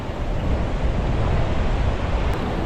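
Steady coastal wind roars at the seaside near Diveagar, mixed with the broad wash of surf, loud and continuous with no talking.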